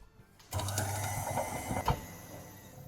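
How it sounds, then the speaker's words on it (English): An electric mincer grinds duck fat for confit, a steady mechanical whirring that starts abruptly and runs for about two seconds with a sharp clunk near the end. "I will put it in the mincemeat maker, and it will be little pieces"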